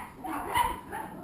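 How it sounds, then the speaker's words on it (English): Dogs bark and yip at a distance outdoors, a brief muffled burst of barking heard over faint background noise. "they let the dogs out"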